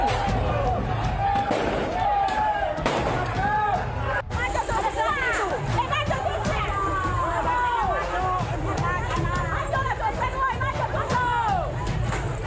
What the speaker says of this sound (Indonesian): Suara gemuruh ledakan petasan dan lemparan batu ini menjadi pemandangan yang menakutkan